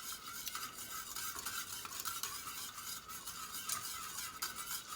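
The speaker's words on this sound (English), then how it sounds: "As I stir it, I feel it." Thick homemade yogurt is stirred slowly in a container, making a soft, steady close-up swishing and scraping with no voices.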